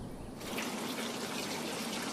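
Water circulates through a hydroponic growing building on a Florida farm, a steady close trickling and rushing flow that holds evenly throughout.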